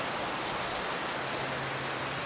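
Steady heavy rain from Typhoon Karding in the Philippines hisses continuously over a house, a dense wash of drops close by with no voices.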